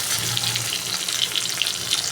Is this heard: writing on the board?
no